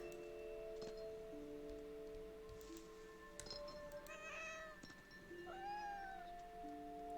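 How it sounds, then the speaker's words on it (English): A cat meows several times in What Remains of Edith Finch, soft plaintive mews over quiet ambient tones and music, fairly close and distinct. "A cat sounds kind of cute."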